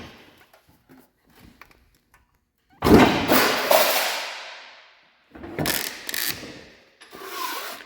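A saw guard pressed by a foot lever comes down with a sudden heavy clunk and ratcheting mechanical rattle, followed by two more shorter clattering clamp sounds after quiet pauses.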